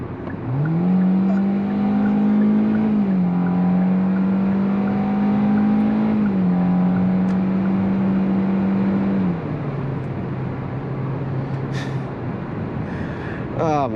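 A 2023 Hyundai Venue Limited accelerates hard to pass on the highway, its engine droning loudly and climbing in pitch through three sustained upshifts before settling lower, with steady road rumble underneath and no talk.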